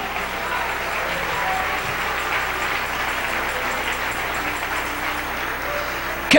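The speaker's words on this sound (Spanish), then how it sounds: "Denle ese aplauso al Rey." Congregation at a Christian worship service clapping in praise, a continuous even wash of applause with a low hum behind it and some faint voices.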